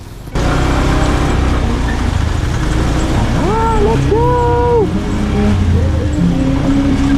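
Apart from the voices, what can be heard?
motorcycle riding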